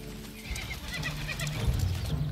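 A horse whinnies loudly and close by while its hooves clatter in an uneven rhythm. The neighing rises and falls, and the scene is a dramatic outdoor one.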